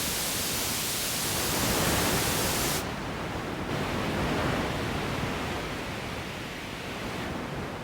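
Steady broadband hiss from a synthesizer noise layer for a drone patch, loud and continuous throughout with a slight change in brightness partway through and no voices.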